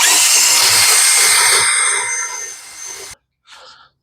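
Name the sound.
reamer cleaning up a bushing bore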